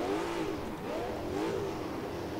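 Engine of a big touring race car in Assetto Corsa, a Rover, Holden or Jaguar XJR12 class machine, revs steadily with rising and falling pitch, a continuous moderately loud drone.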